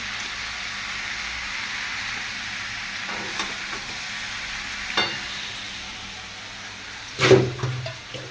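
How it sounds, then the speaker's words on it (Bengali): Water is poured into a katla fish curry with mixed vegetables to make a thin gravy: a soft, constant frying hiss with a few faint clinks, then a loud splashing, bubbling burst near the end. "এই পাতলা ঝোলের জন্য এতটা জল দিচ্ছি একদম পাতলা ঝোল করব"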